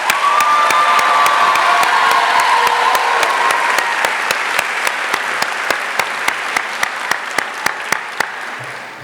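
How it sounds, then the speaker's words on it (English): A crowd at a high school graduation ceremony in Dunkirk, New York claps steadily with some cheering, then the applause thins into sparse, distinct claps before fading out. "let's all give Mrs. Moreland another round of applause"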